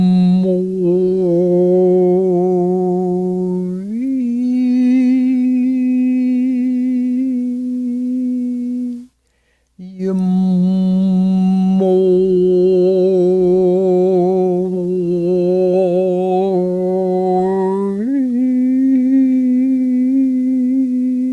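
A deep, sustained chanted vocal tone, the sacred sound Yamui, sung low and resonant by a single voice in long held phrases with a brief pause partway through.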